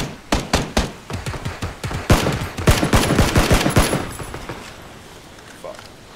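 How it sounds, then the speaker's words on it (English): Gunfire in a shooting video game, rapid bursts of loud cracks in quick succession, some overlapping, thinning out and fading to quiet near the end. "They're shooting at me."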